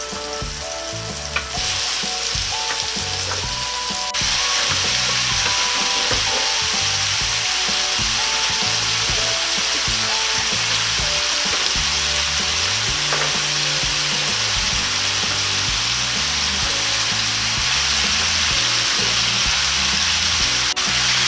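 Squid sizzling and frying steadily in a hot pan for Filipino adobong pusit, a continuous loud hiss with occasional stirring clatter throughout, no talking.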